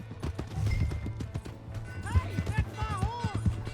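Horse hooves clip-clop on the ground in the video game Red Dead Redemption 2, a steady close rhythm with a whinny near the end and a voice talking over it.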